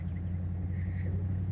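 Steady low rumble of a 1953 Pontiac being towed by a Ram TRX through a small town square, heard from inside the car as a constant road and engine drone with no talk.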